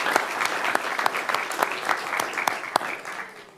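An audience gives a round of applause honoring a championship-winning athletic team, with distinct sharp claps standing out from a lively, even patter of hands that stays strong throughout.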